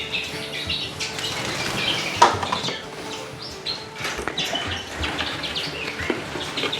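Redpolls fluttering in a show cage, a steady close patter of flapping wings with faint chirps mixed in and no talking.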